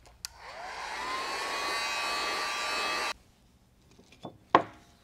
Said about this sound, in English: I'll give it a heat set